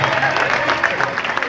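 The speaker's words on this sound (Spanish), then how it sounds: "A ver, el aplauso fuerte para ellas" Audience at an artistic roller skating club evening applauding the youngest skaters, a dense continuous burst of clapping from a nearby crowd.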